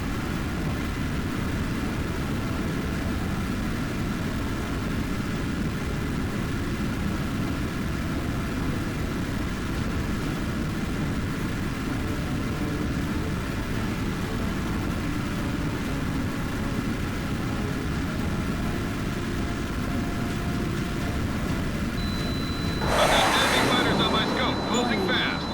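Fighter jet engines roar steadily in Tom Clancy's H.A.W.X air combat, a dense continuous drone that swells near the end with a brief bright burst, while voices talk over it.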